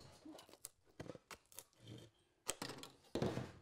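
Aviation snips slicing through thin stamped copper ceiling panel, a handful of sharp irregular clipping snaps and crunches, fairly close and quiet, with no one talking.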